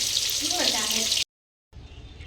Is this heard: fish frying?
yes